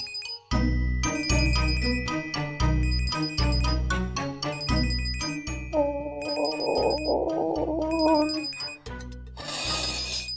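A mobile phone rings in a Marathi TV serial scene, a loud repeating melodic ringtone with bright chiming notes that cycles steadily, with a brief noisy burst at the end.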